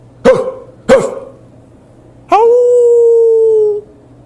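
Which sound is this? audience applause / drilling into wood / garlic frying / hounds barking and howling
hounds barking and howling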